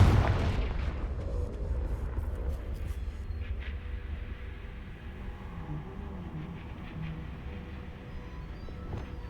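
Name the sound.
Confringo spell blast in the Hogwarts Legacy video game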